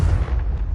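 Confringo fire spell in Hogwarts Legacy on PS5 bursts with a short, loud, low booming explosion that rumbles briefly before cutting off.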